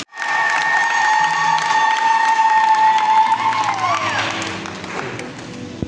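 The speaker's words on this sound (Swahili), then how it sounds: "Tuwapigie makofi na vigelegele." A crowd at a form four graduation Mass breaks into loud applause and cheering for parents and teachers, while high, wavering ululation trills above the clapping and then fades.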